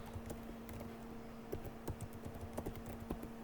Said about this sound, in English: Type the credentials.